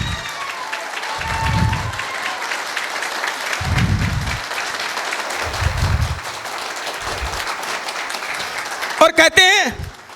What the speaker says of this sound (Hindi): तालियों से आप गुनगुना दीजिए।